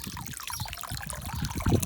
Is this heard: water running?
yes